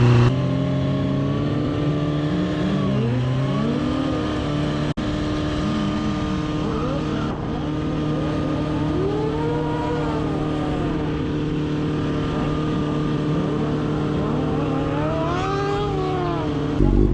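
A stunt motorcycle with a badly worn rear tire revs loudly and continuously at a stunt event, its engine pitch rising and falling in repeated sweeps over a constant drone, with no voices.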